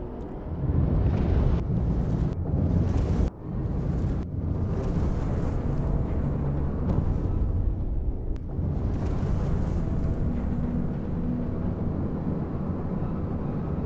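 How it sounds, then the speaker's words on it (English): Spaceship engine boosting in a sci-fi flight game, a steady broadband roar with rumbling ambience that swells and holds throughout, with a few brief thumps early on and no talking. "So both the engine boost sound and the ambient sound as well."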